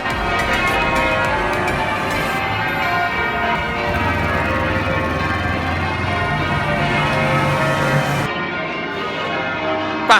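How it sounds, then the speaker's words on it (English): Large cathedral bells peal continuously and loudly, their ringing tones overlapping and sustaining throughout, with a deep hum underneath before the sound briefly drops away. "the bells really have added a little extra dimension to the show"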